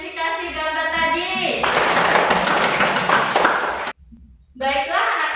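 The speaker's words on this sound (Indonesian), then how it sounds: "Beri tepuk tangan untuk yang sudah mengidentifikasi gambar tadi." Classroom applause for students who identified a picture, a burst of clapping lasting about two seconds, loud and close, with a voice and teacher talk before and after.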